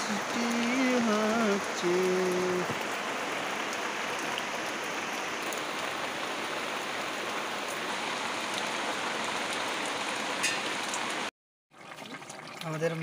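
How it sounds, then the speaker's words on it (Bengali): Heavy rain pours outside a kitchen where a Bengali stingray fish curry is being cooked, a loud, dense, unbroken hiss that cuts off abruptly near the end, with a few brief tones at the start. "বাইরে প্রচন্ড বৃষ্টি হচ্ছে"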